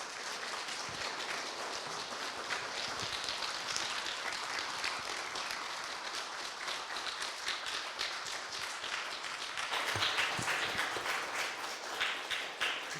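A Korean church congregation at Sunday worship claps to welcome a departing pastor before his farewell sermon, many hands producing a long, even patter of applause that swells louder near the end and carries on for over ten seconds.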